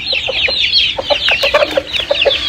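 Young Aseel roosters of a Pakistani breed cluck in quick, close, overlapping bursts, a busy run of short throaty calls with no talking.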